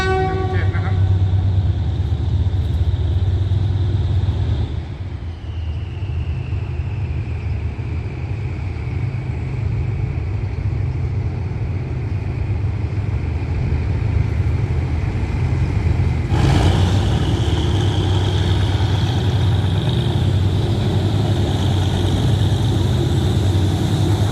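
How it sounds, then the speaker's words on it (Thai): A diesel locomotive engine revs, roaring steadily, rumbling deep and loud throughout, with a faint whistling tone rising partway through, at Bang Sue, Bangkok. "เสียงเร่งเครื่องนะครับ กระหึ่มเหลือเกิน"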